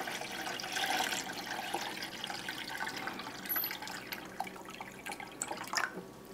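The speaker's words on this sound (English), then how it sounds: "And I just get a container and just pour my water in." Water poured into a container inside a quart jar of yogurt for sous vide, a soft continuous splashing stream that thins into scattered drips and trickles.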